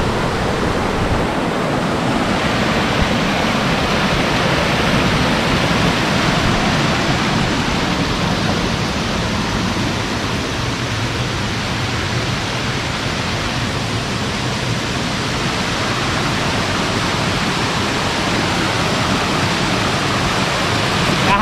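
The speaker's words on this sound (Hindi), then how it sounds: "ऊपर से झरना गिर रहा है" A forest waterfall in Himachal pours from above into a small pool, making a steady, dense rushing roar that fills the whole stretch without letup, with faint voice in the background.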